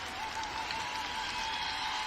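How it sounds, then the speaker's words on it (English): Fans and players at the 2023 WIAA state football game between Wrightstown and Aquinas clap in a steady, sustained wash of applause that stays even throughout, with no talk over it. "There you see the Aquinas players applauding their fans that have supported them all along"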